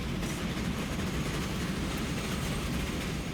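A train rolls along in the Transport Fever railway simulation game, giving a steady, dense rumble of wheels on track, moderately loud and continuous, with no one speaking.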